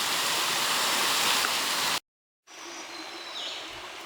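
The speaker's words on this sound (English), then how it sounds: "I'm pretty sure this is it" A waterfall in Oil Creek State Park, Pennsylvania, seen on a rainy trail, roars as a steady broadband rush that cuts out briefly, then returns slightly softer with faint bird calls above it.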